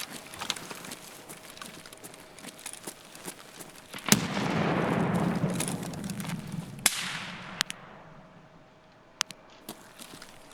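A single sharp gunshot in a video game rings out with a lingering echo that fades over a couple of seconds, followed later by a few faint clicks and taps.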